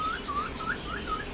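A female pet bird, a mimic of koel, crow, human and phone sounds, gives a short series of five thin rising whistled chirps, close and clear over faint background noise.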